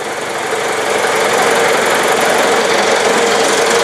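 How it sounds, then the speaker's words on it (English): A Model T engine runs loud and close under load on a dynamometer, a dense steady knocking roar with a slight rise in strain as it lugs down and settles into a continuous labored drone. "You might hear the engine lug down a little bit."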